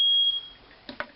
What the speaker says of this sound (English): that's fire alarm going off